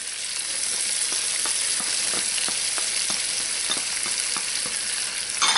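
Celery sizzling and frying in a pan for shrimp étouffée with andouille sausage, with steady crackling spatter and repeated scraping stirs, close and alone with no talk.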